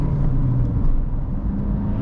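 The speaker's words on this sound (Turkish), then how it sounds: "Ve böyle tatlı bir ses çıkarıyor motorun oradan, böyle küçük bir ıslık sesi." Mercedes 150 hp engine in a Dacia Duster 4x4 on a dirt road, a steady close in-cabin engine rumble under load with road noise.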